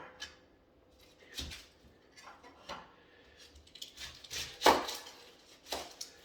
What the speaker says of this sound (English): Just cut that thing in half, get most of the peel off of it.